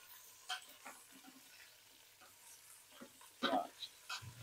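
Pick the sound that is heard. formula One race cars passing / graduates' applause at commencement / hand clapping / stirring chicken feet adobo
stirring chicken feet adobo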